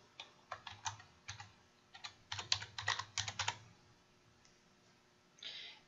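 Soft, quick clicks of typing on a computer keyboard, entering flashcard questions and answers, come in irregular bursts over a quiet background and then trail off.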